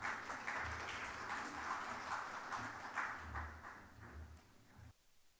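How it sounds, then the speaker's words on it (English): Applause from a conference audience at an international tax event in Dubai, steady dense clapping that is moderately loud and continuous, then it stops abruptly near the end. "Let us welcome Chapter Chairman Sri Anurag Chaturvedi to the stage with a big round of applause"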